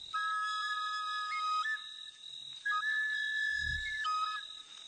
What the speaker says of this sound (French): les chasseurs préviennent avec leurs sifflets qu'ils ont été victorieux sur la brousse